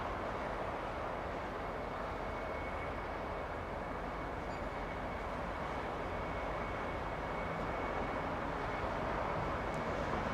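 A jet airliner landing on runway 25 left at Los Angeles International Airport, heard as a steady, broad engine roar and rumble that holds throughout without talk.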